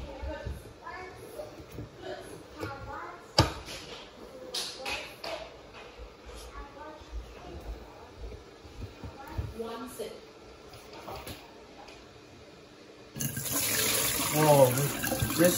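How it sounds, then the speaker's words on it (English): Dirty water from a Roborock refilling dock is poured into a sink, followed by a tap running strongly near the end, with light handling clatter throughout. "I'm gonna take the bit of dirty water and take it to the sink."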